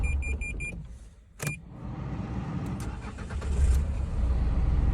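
A car engine starts after a few electronic dashboard chimes and a brief cranking burst. It catches and settles into a steady idle close by, with no talking.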